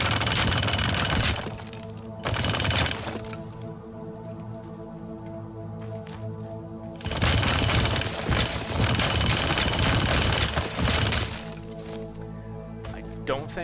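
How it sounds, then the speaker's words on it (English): Jackhammer breaking terrain in the video game Teardown: two loud, dense rattling bursts, one short and one longer, separated by quieter rumbling debris and ambience. "on the odd chance, I'll actually jackhammer some of it"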